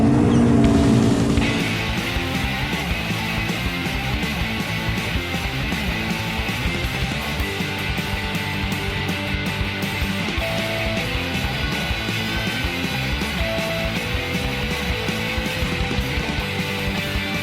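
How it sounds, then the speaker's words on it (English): A supercharged Yamaha FX Cruiser and a non-supercharged Yamaha GP1800R waverunner drag race on open water, their engines roaring loud and steady after a brief start, with spray and hull noise throughout. "There's FX Cruiser supercharged, GP1800 non-supercharged, and we're gonna drag race them."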